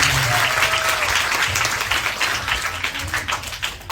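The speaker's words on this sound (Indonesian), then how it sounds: "Kita berikan aplaus yang meriah untuk pemateri." An indoor church audience applauds a speaker at a gathering, many hands clapping loudly in a steady dense wash that gradually thins toward the end.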